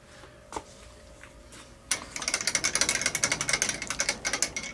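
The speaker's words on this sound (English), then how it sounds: "and I'm using a spiral flute 16mm reamer." A spiral flute 16mm reamer cuts through the keyed bore of a cast pulley on a lathe, a dense run of rapid ratcheting chatter and metallic ticks that starts abruptly after a quiet lead-in and continues steadily to the end.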